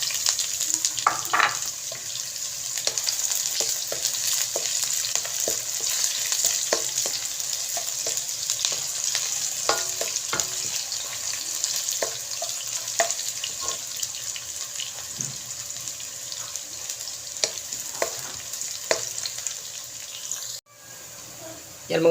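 Ginger, garlic and onion fry in a pan for the adobo quail, a continuous loud sizzle with scattered clicks from stirring throughout, then a brief dip near the end.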